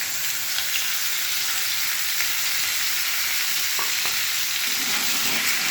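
Curry frying in hot oil with fresh oil just added, a steady loud sizzle running throughout while a spoon stirs it, with a few clinks and scrapes near the end.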